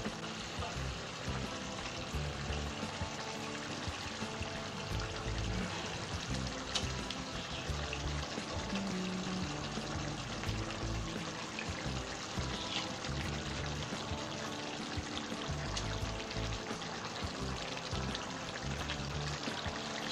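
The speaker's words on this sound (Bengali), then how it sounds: "এবার আমি মাছগুলো এতে ছেড়ে দেব।" Fish pieces slip into boiling mustard gravy for bhola fish jhal, giving a steady, dense bubbling and sizzling with pouring, trickling sounds that hold without pause, close and moderately loud, with no talking.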